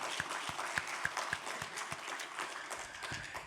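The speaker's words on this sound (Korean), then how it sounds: "여러분 자신에게도 박수 한번 치고" An audience claps at a Tuesday chapel worship service with a pastor's sermon, giving a short run of fairly steady, separate claps that fade out after a few seconds over a faint room hum.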